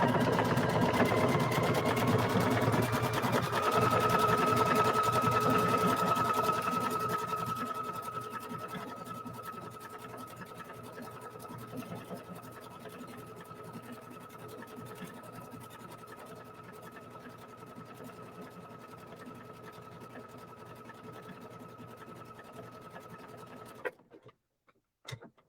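Creative Icon 2 sewing and embroidery machine stitching rows of decorative stitches, a steady mechanical whir with rapid needle patter that slows and softens midway, then stops with a few clicks near the end.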